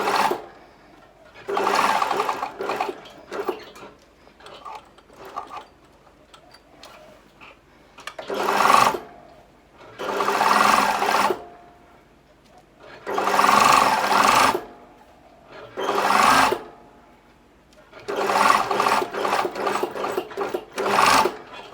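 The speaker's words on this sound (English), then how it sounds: "make sure you sew right on the edge so that it's nice and neat" A sewing machine stitches along a folded fabric edge in several loud close bursts of rapid needle clatter, separated by short pauses.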